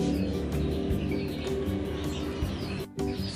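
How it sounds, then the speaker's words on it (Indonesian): A small canary chirps and trills in quick bursts close by, over a steady low hum of background noise. "Jadi di sini ada 1 ekor kenari gacor."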